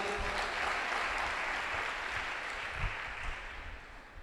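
A church congregation clapping together in steady, continuous applause, fairly distant and diffuse, with no voice over it.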